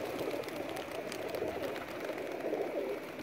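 Soft pigeon cooing blends into a steady, busy murmur of birds, continuous throughout with no clear pauses.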